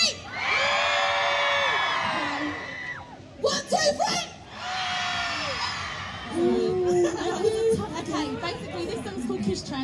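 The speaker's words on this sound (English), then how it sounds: "after 1, 2, 3, you lot scream." A live festival crowd at Sheftival 2012 screams loudly in two sustained bursts, separated by a short gap of cheering and shouting, with children's voices mixed in.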